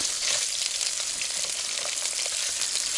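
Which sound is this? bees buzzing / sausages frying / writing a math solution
sausages frying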